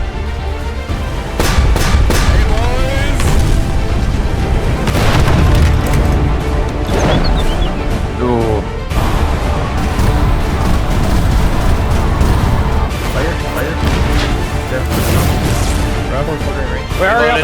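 Booming artillery and rapid gunfire from the Foxhole war game crowd the scene at loud, close range, with shouted voices running over the constant battle noise.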